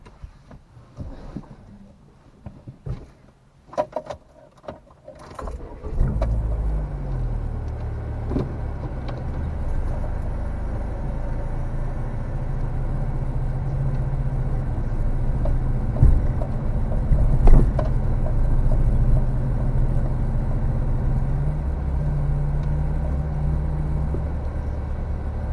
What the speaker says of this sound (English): this is the driving portion of the Chevy Cavalier review